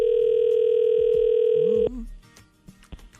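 Telephone dial tone sounding steadily and loudly as a call goes out to a radio contest winner, then abruptly cut off and followed by a few short clicks and faint handling sounds.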